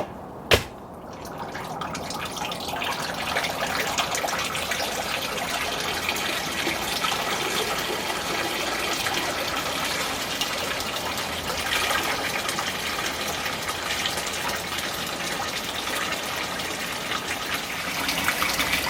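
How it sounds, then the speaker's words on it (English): A garden pond waterfall starts up after a brief click, then water gushes and splashes continuously, loud and close, in a steady rushing wash. "let's turn on the waterfall"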